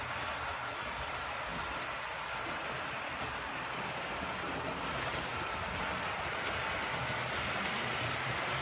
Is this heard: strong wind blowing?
no